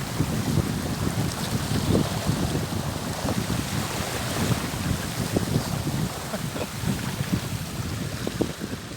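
Water rushing and hissing along the hull as a Paradox sailboat charges fast in strong wind, a steady close wash of wake with gusty wind buffeting the microphone throughout.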